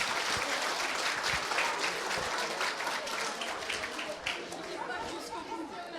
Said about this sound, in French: tout le monde a applaudi